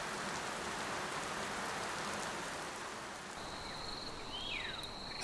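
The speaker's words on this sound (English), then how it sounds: "As the rain falls, life will spring back from the ground." Rain falls on the African savanna as a soft, steady hiss with faint insect chirring, and a brief high whistle rises partway through.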